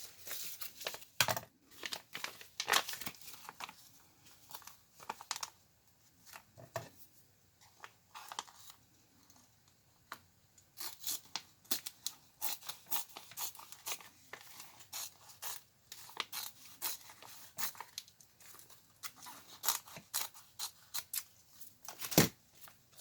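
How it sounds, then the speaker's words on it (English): Scissors snipping through a woven bulk rice bag to cut off its bottom, a series of sharp crisp cuts and crinkling rustles spread irregularly, close and fairly quiet with no talking. "I'm going to cut the bottom off, okay, where that was first turned up"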